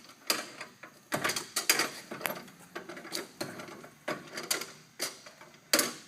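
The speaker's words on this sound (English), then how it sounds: "I'm going to tighten this inside bolt up some." An inside bolt on a fork being tightened with a ratcheting tool: a steady series of close, sharp metallic clicks in uneven bursts, with no talking.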